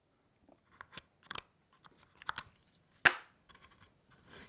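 A chisel chops into the end grain of wooden dovetail sockets on a tea caddy, giving close, sparse crunching cuts with one sharp, louder strike partway through and no talking.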